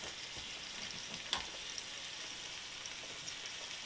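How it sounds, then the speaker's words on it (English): Meat searing in a hot pan over high heat, a faint steady sizzle and crackle with a single brief clink partway through, no voices. "They want to turn our fire up so they can sear nicely."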